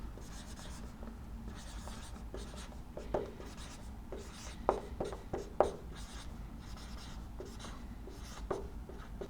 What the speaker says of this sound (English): let's write it clearly one more time